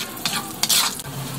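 Ginger pieces sizzling and frying in a pan, with a steady crackle broken by a couple of quick scraping stirs; close and fairly loud, no voices.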